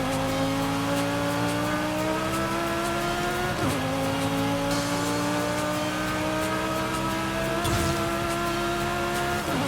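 A V10 engine in a Forza Horizon 5 car drones steadily at high revs, its pitch climbing and dropping sharply twice as gears shift, loud and continuous with a faint tire-squeal edge.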